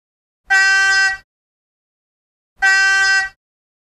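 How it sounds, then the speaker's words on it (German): The signal horn of a PIKO N scale BR 221 diesel locomotive model gives two identical short, bright, loud blasts, each under a second long, separated by silence. "F2 Signalhorn."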